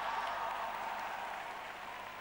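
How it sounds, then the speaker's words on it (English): Crowd at an Olympic pairs figure skating short program applauding and cheering, a steady dense wash of clapping held at an even level through the whole stretch with no talk over it. "the crowd here just cheering every single move that they did"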